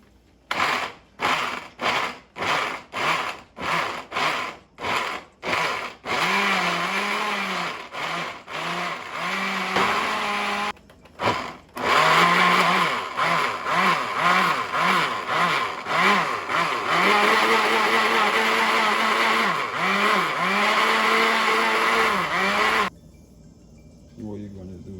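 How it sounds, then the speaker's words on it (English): Blender motor pulses tomato soup ingredients in short bursts, about a dozen quick on-off whirs, then runs in a longer continuous grind with brief gaps, loud and close. "now that your blender is good, you're going to pulse that."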